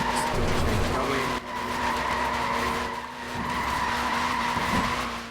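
A car drifts along an airstrip in Forza Horizon 4, its tires squealing in long, continuous skids over a steady engine drone, loud and close with a brief break partway through.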